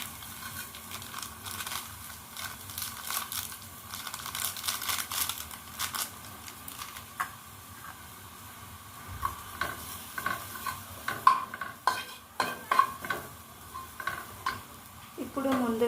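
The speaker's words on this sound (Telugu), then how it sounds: "నూడిల్స్ మసాలా వేస్తున్నాను" Noodle masala powder being stirred into a pan of cooking vegetables for Maggi masala noodles, a spoon scraping and clinking against the pan in steady strokes over a soft background sizzle, with a few sharper knocks near the end.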